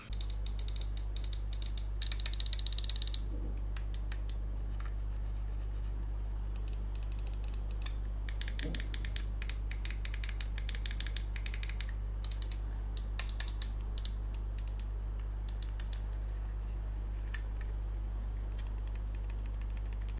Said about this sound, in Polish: Myszka niestety jest dosyć głośna przy okazji podczas użytkowania, zresztą posłuchajcie sami.